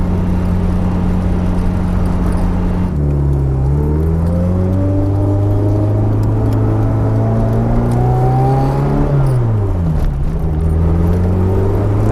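A 33-year-old Eagle Talon with a new turbo and a worn, loose drivetrain accelerates hard, its engine drone rising in pitch, dropping at the shift into second gear, then climbing again. Loud and continuous, with no talk.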